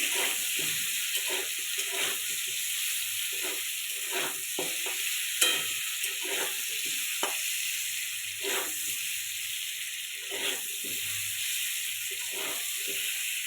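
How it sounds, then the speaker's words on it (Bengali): Salt, with turmeric, frying in a pan for a sweet-sour-spicy mango chutney makes a soft continuous hiss, with repeated stirring scrapes and taps every second or so throughout, and no voices. "লবণ ভেজে নিতে হবে"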